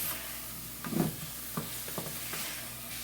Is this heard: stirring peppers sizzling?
yes